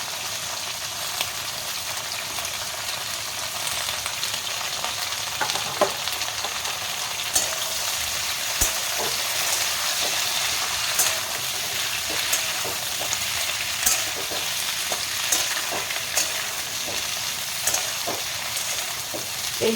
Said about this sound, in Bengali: সব একসাথে এগুলো সব ভাজা হবে